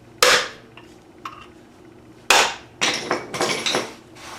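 Sledgehammer blows strike a stake against a Thunderbolt A2-4M siren blower shaft: two sharp metallic hits spaced apart, then a quick cluster of ringing strikes, loud and close with no talk.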